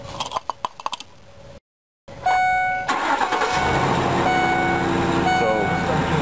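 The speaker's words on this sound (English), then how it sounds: "let me start the car" A Ford E150 van engine cranks and catches after a few clicks and a short pause, then idles steadily and loudly up close, with faint clinks and a voice briefly over the running engine.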